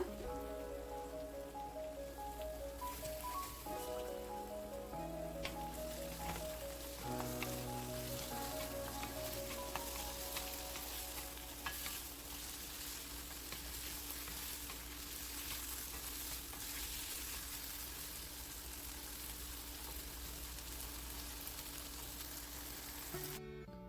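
Chopped onions frying with masala in a pan, a steady dense sizzle running throughout with occasional stirring scrapes, near and fairly loud, while background music with tonal notes plays over the first several seconds.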